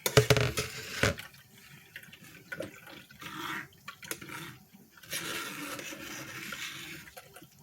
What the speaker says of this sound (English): So I'm just strain it at least one time.